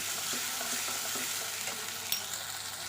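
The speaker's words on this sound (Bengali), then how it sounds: "পেঁয়াজটা একদম হালকা ভেজেছি" Onions fry gently in oil tempered with asafoetida, a close, even sizzling hiss with faint stirring scrapes and one small clink near the end, no talking.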